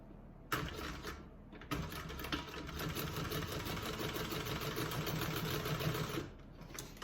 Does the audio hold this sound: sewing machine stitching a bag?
yes